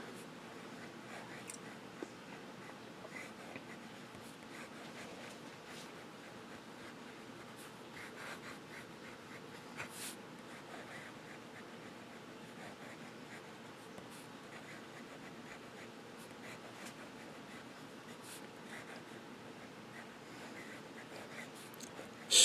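Fountain pen with a broad number 6 size Jobo nib scratching and gliding across paper in a steady, quiet run of close strokes, with no talking.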